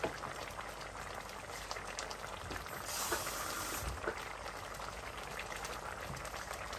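Crab in coconut milk simmers in a pot as water is added, giving a steady, close bubbling and hissing throughout with a brief swell of poured liquid midway.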